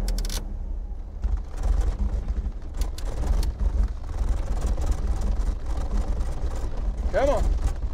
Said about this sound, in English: Both engines started up, running a little bit rough.